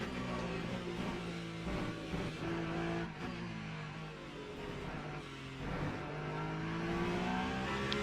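A prototype race car in a sim racing game at Le Mans crosses the finish line, its screaming engine loud and steady with rising and falling pitch as gears change, a constant drone over the whole stretch.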